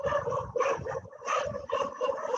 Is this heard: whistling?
no